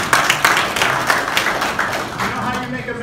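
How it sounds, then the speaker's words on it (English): Audience applause at a keynote talk in Birmingham, Alabama, a steady wash of clapping from a room of listeners, fairly loud and continuous for a few seconds with scattered sharper claps on top. "You can applaud."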